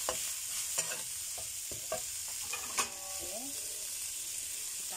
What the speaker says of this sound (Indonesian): lanjut kita masukkan kacang panjangnya. Nah, diaduk kayak gini.